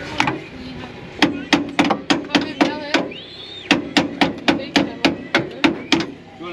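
A big hammer pounds on a castle nut on a Unimog in a rapid series of loud, sharp metallic strikes, two bursts of about nine to ten blows each separated by a short pause, with a voice briefly in between.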